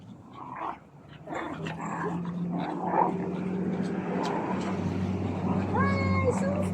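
A dog growls and whines amid busy background noise, with voices talking nearby and a high squeaky cry near the end.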